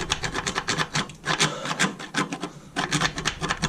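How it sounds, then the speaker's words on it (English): A hacksaw is worked back and forth through a stuck steel suspension bolt on a Triumph Spitfire 1500, giving steady rasping strokes in a close, regular rhythm with brief pauses between them. "So I've been sawing for about I don't know, 10-15 minutes."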